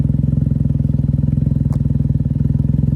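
A Can-Am Ryker idles with an RLS carbon-series exhaust, baffle removed, giving a steady, deep, throbbing pulse that is loud and close, with a single brief click partway through.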